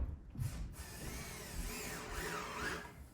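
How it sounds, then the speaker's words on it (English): A power drill drives a screw into a basement wall, a short whirring run of rising and falling motor pitch lasting a few seconds, fairly faint and close with no talk. "I'm just going to put a screw a little bit above the height of this"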